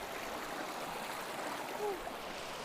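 The Jinshi River, the mother river of an old Chinese town, flows in a steady broadband rush like a stream, continuous and fairly near with no clear voices.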